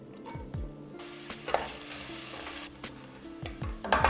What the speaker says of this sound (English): we are going to fry our shallots and garlic